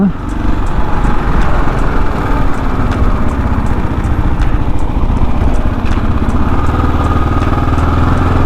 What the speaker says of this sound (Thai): เครื่องยนต์มันสั่นสะท้านมาถึงแฮนด์นะครับ